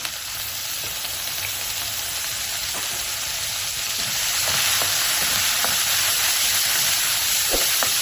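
Ginger garlic paste hits hot oil and sizzles in a steady, dense hiss that swells louder midway, with occasional soft clicks of a spoon stirring through it, cooking for an arbi curry.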